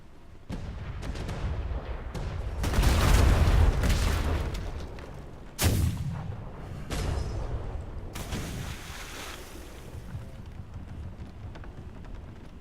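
Ship cannons in the game Atlas fire through open gun ports in a run of heavy booming blasts, loud and close, with a sharp report near the middle and rumbling decay between shots; no talk.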